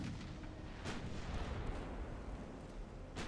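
Naval main guns fire in Ultimate Admiral Dreadnoughts, a dense run of heavy artillery booms rolling together with sharp bursts near 0.9 and 3.2 seconds, continuous and loud throughout.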